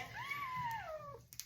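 A fat, mobile foster kitten gives one drawn-out, wavering cry, up close and fairly faint, with a soft rising-then-falling tone and no talk over it.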